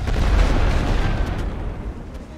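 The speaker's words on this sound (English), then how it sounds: "I'm going for another rolling barrage." A rolling artillery barrage in the Elite Great War Western Front game thunders continuously with heavy low booms, loud and sustained at first, then easing slightly as the shelling rumbles on.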